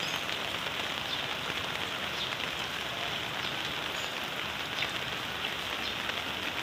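Heavy rain pouring steadily in Bulacan, Philippines, over flooded streets that have turned into a river, as a dense continuous hiss of drops on surfaces with no voices.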